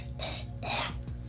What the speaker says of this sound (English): If you ain't coughing, you ain't spraying enough.